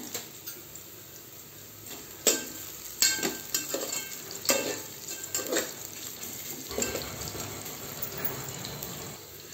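Whole spices (cloves, green and black cardamom, black peppercorns) and black cumin fry in hot oil in a pot for daal gosht, a quiet steady sizzle broken by several louder stirring scrapes and clinks, no speech.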